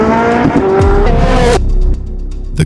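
A Koenigsegg Jesko hypercar screams at high revs with a rising engine note and squealing tires, then cuts abruptly to a lower idle burble with a short final blip, loud and close.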